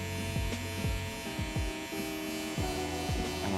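Close, steady electric buzz of a Wahl Vapor hair clipper running through a mid fade haircut, its drone wavering as the blade works the hairline with short repeated strokes.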